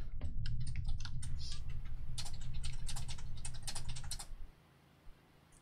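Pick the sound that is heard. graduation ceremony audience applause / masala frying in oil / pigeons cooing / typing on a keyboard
typing on a keyboard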